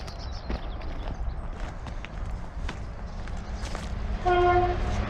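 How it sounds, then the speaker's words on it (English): A train rumbles by with clattering wheels in the Ise Valley countryside between Wellingborough and Kettering, England, then a loud two-tone horn blares near the end, close and sustained. "Train."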